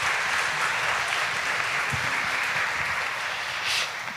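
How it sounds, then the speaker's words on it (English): An audience claps after a small business financing panel, a steady dense round of applause from a room of people, held at an even level throughout. "let's give them a round of applause."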